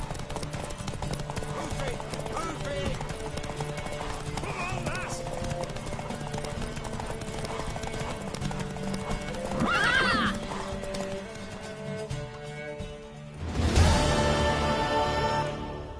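Horse hooves clip-clop in the game Witcher 3, a horse whinnies loudly partway through and again near the end, under music and voices talking.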